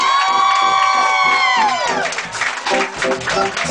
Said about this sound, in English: Please give a warm round of applause and welcome my man, Mr. Darian Brockett, ladies and gentlemen.